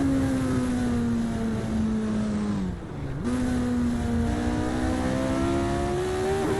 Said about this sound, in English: This car is loads of fun to drive.